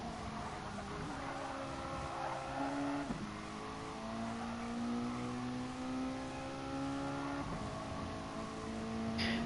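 A Mazda MX-5 Cup race car in Gran Turismo Sport runs a lap of Kyoto Miyabi, its engine droning steadily with rising and falling pitch as it shifts through gears, heard alone at a low level.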